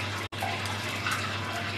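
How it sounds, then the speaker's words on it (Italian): Water running from a tap into a cooking pot in a kitchen, a close, steady gushing stream broken only by a momentary cut near the start. "L'acqua, la pentola."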